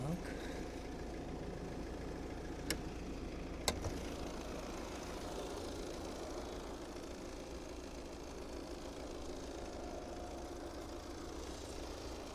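A 2018 Volvo V40 engine idles steadily with a low, continuous rumble, close by, with two brief sharp clicks early on and no talking.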